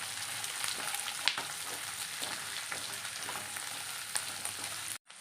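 Garlic sautés in oil for a garlic pickle, giving a steady, even frying hiss with faint occasional stirring clicks, ending abruptly.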